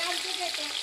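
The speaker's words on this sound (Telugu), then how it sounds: "పచ్చిమిరపకాయలు ఉల్లిగడ్డలు వేసుకున్నాం. మనము అది ఫ్రై కావాలా." Green chillies and chopped onions sizzle and fry in a pan, a steady close crackling hiss with faint stirring, no voices.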